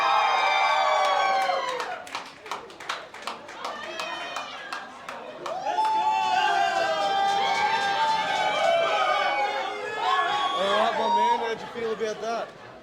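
A live audience claps and cheers loudly after a performance, a steady wash of applause with shouts and whoops rising and falling throughout, close and continuous, with voices calling out over it.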